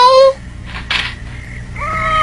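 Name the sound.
person imitating a cat meow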